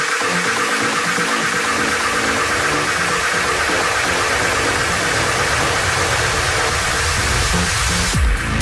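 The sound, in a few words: Soviet KM ekranoplan engines roaring on takeoff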